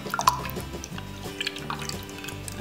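Blended aloe vera gel dripping through cheesecloth, with irregular small drips and trickles close by and faint low background tones underneath.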